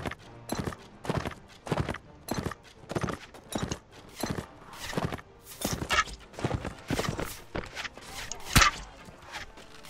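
A horse gallops in the Mount and Blade Warband video game, its hoofbeats a steady, rapid clip-clop running the whole time at an even, moderately close level.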